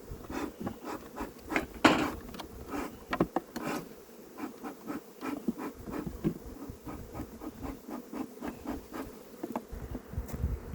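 Honey bees buzz around wooden hives being inspected, a steady close drone with frequent scrapes and knocks of frames and boards through the whole stretch, no talking.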